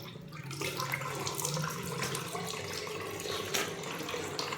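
Water runs steadily from a tap into a sink while someone rinses a face wash off with plain or warm water. The quiet, even stream continues unbroken with no talking.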